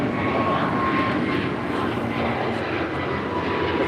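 American Airlines flight 583 departs LAX, a loud, steady jet engine roar filling the moment close by, with a faint tonal whine running underneath.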